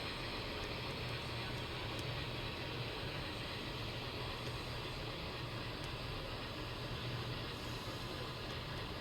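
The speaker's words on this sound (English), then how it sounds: "There are a total of 144 wheels turning right now on this car, on this train, the way it's moving." Five MTH model electric trains run at once, 144 wheels turning on one train, rolling steadily along the track with a continuous close rumble and a faint metallic hiss throughout and no pauses.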